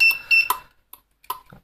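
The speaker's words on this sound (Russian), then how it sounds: "Слышим звуковые сигналы." A CENMAX car alarm in panic mode sounds a few short, sharp electronic beeps in quick bursts, followed by fainter chirps and a brief low thump near the end.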